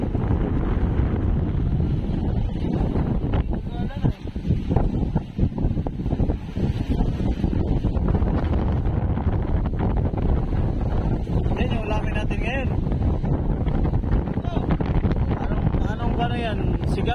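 Heavy wind buffets the microphone in a constant roar, with the rush of whitecapped waves on the Pacific Ocean beneath and faint voices now and then.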